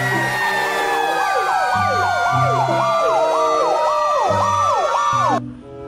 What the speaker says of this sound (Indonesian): di sini ada mobil pemadam kebakaran